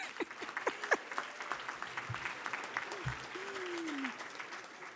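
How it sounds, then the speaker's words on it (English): Applause from an audience at a dual enrollment recognition ceremony for graduating college students, steady patter of clapping throughout with scattered vocal sounds and brief voices mixed in. "There are going to be a lot of applause tonight"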